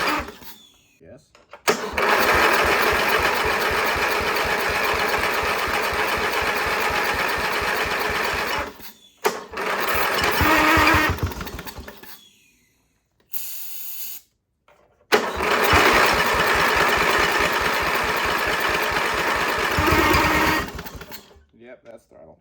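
A free, abandoned lawn mower's small engine runs loud and buzzing for several seconds, cuts out, sputters briefly back to life, dies again, then restarts and holds a steady run before stopping.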